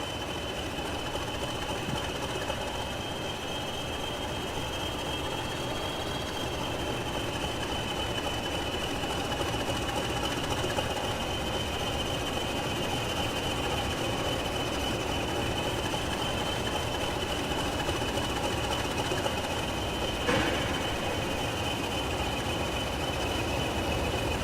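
A model railway locomotive shunting a rake of wagons, with a steady mechanical whirr and hum running continuously and evenly throughout, close and moderately loud, with a faint brief knock about two-thirds of the way through.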